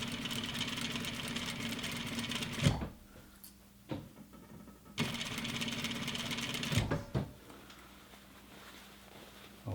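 A sewing machine stitches the hem of a lined jacket sleeve in two long steady runs of fast mechanical whirring, each stopping abruptly, with brief clicks and handling noises in the pauses.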